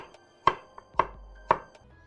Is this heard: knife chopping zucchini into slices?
yes